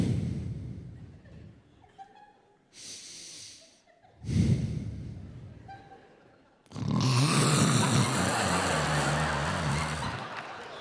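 A voice imitates loud snoring: rasping breaths and snorts come in uneven bursts, ending in a long, harsh, rattling snore.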